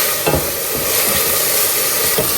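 Chopped onion frying and sizzling in a pan, stirred with occasional scraping strokes as it softens before minced meat goes in for an okra stew; a steady loud sizzle with no talk.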